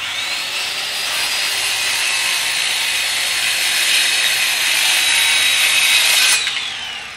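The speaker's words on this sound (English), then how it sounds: "I'm going to power it up and see if we can cut through the 2x6." A mini circular saw rated 6.5 amps, run from a LiFePO4 portable solar power station, cuts through a 2x6 wooden board. It makes a loud, steady, high whine lasting several seconds, then stops abruptly as the blade clears the wood.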